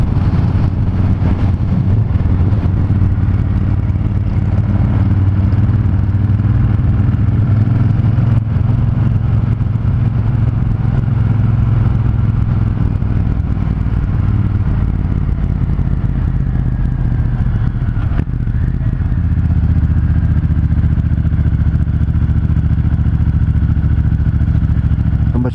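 Motorcycles in a group ride cruising slowly at about 20 km/h along a hilly road, a loud steady engine drone with low rumble and wind, holding a constant pitch with slight shifts.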